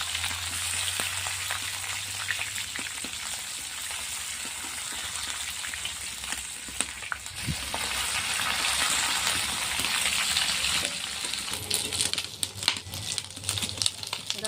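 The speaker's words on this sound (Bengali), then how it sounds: "মাছগুলো একটু বেশ ভালো শক্ত করে ভাজতে" Small fish fry in hot oil with a steady, dense crackling sizzle, close up and continuous, with sharper pops growing toward the end.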